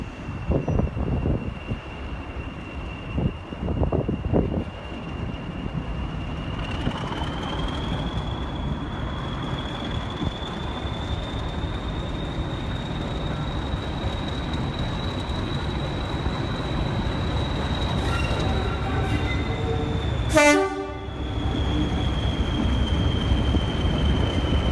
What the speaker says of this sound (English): One train leaving the Bolton Street platform.